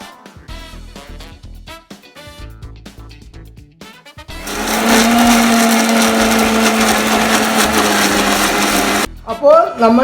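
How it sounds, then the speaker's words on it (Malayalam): A mixer grinder blitzes green chillies and masala ingredients for a fish fry, a loud steady whirring roar that starts after a few seconds of kitchen clatter and talk, runs continuously, then stops briefly and restarts. "ഇനി നമ്മൾ ഇതെല്ലാം ചേർത്തൊന്ന് അരച്ചെടുക്കാം."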